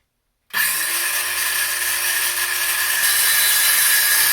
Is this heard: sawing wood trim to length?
yes